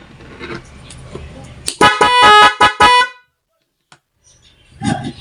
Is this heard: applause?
no